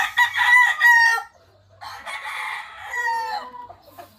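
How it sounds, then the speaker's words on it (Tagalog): A White Kelso F1 broodstag rooster crows twice, loud and close, with a pause of about half a second between the two long calls. "Ready na. White Kelso. Broadstag F1 ng B-Boy Enriquez."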